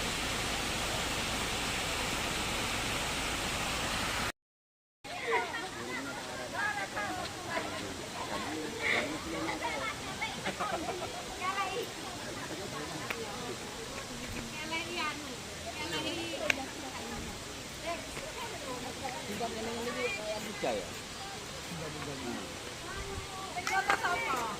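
Steady, dense roar of the Delundung waterfall in Mojokerto, a broad rushing wash of falling water that stays constant and close, with a brief dropout near the start.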